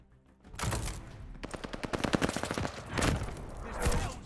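Rapid automatic gunfire in Call of Duty Vanguard during a Search and Destroy match, dense bursts of shots rattling loudly and continuously with brief pauses between volleys.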